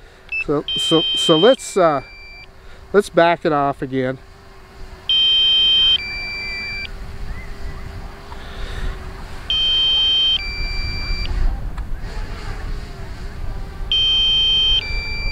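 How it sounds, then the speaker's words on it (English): Repeated low-battery warning beeps from a camera drone sound in regular pairs of tones, interrupted early by a short burst of talking, against a faint steady whine and outdoor background. "And now it went into low power beeping."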